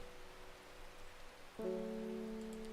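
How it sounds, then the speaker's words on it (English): Rain falls steadily in Strange Horticulture, a soft, even hiss, joined partway through by a sustained low tonal hum that holds to the end. "Another rainy day."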